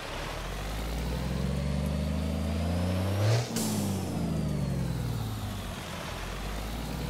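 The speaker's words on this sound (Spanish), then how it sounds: "vamos a encender el motor." A truck engine in American Truck Simulator starts up and revs, a loud, close low drone that rises in pitch to a peak midway, then falls back and settles into a steady idle rumble.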